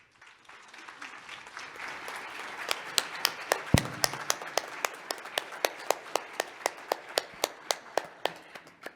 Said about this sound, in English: I like clapping in front of this microphone, isn't it nice and loud?